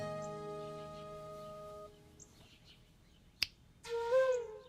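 After a sustained tone fades, a single sharp finger snap cracks out, followed by a brief wavering whistle-like sound.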